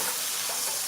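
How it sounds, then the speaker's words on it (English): Food being stirred in a hot pan with vegetarian mushroom-based oyster sauce, giving a brief, loud, continuous sizzling hiss up close with no voices. "And then I stir."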